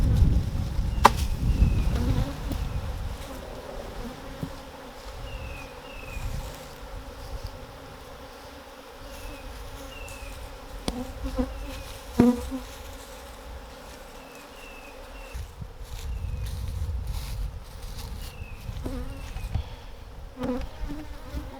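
Honeybees buzzing around a newly started hive, a steady low drone with occasional passing bees swelling louder close by, plus a few faint knocks and thumps, no talking.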